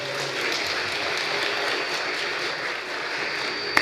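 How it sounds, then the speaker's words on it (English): Audience applause at a synagogue panel discussion with rabbis, a dense steady patter of many hands clapping throughout, moderately distant and without talk. "I didn't even say anything about you yet, and they're clapping"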